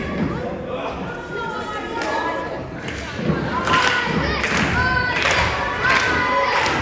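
A rolling clothesline in a live wrestling match in Romford, heavy body impacts landing with thuds amid a cheering crowd, with a commentator talking over the ring noise throughout.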